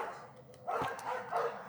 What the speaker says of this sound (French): vous entendez les chiens de mes voisins